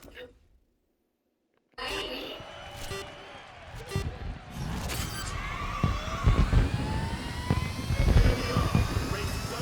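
Electric race cars driving in the racing video game Grid Legends, a whirring, rising electric drone with passing whooshes and impacts starting after a brief silence, loud and continuous with a voice talking over it.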